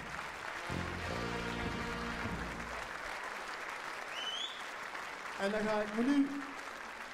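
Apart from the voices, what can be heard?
audience applause for the artists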